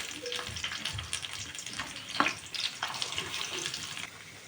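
Onions frying with cumin, green chillies, curry leaves and coriander in a pan for Andhra-style dondakaya (ivy gourd) curry, a steady close sizzle with watery crackle and a few louder pops, no talking.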